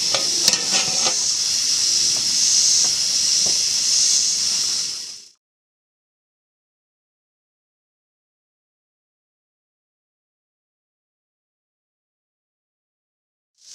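Onions sweat in a lidded pot for canned onion soup, giving a steady bright sizzle and hiss with a few stirring clicks for about five seconds, then cutting to silence.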